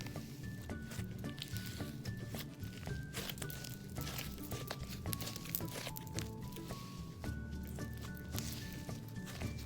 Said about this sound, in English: It's like a crunchy slime.